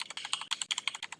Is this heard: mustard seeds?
no